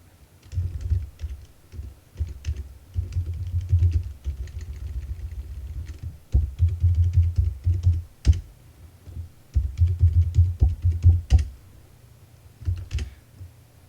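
Computer keyboard keys clacking in bursts as a terminal command is typed for a Python3 Django project, with uneven rhythmic tapping and a steady low hum underneath.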